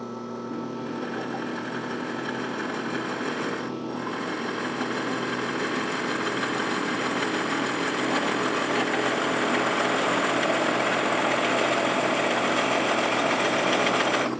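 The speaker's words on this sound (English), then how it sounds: "I'm using a 2 1/8 inch diameter Forstner bit to drill a hole" A 2 1/8 inch Forstner bit bores a hole in a segmented wooden disc, producing a steady, loud, continuous drilling whine with a brief dip in pitch partway through, no voices.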